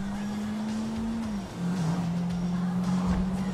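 Car engine in Grand Theft Auto droning at a steady hum, pitch dipping briefly midway then holding again, loud and continuous with no talk.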